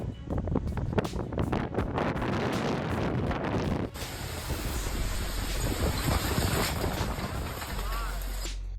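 Strong storm wind in Texas buffets the microphone with heavy, gusty roaring and rustling, loud and close throughout, while a voice speaks over part of it.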